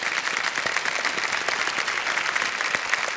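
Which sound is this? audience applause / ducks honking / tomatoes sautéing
audience applause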